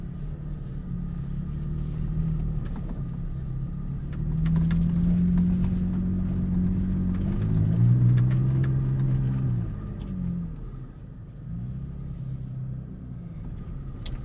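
A 2020 Toyota Tacoma TRD Offroad in 4-wheel drive on sand dunes, its engine giving a steady low rumble that swells twice as it revs and climbs, then eases, heard from inside the cab with no talk.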